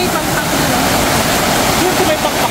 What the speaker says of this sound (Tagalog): kasi nandito yung falls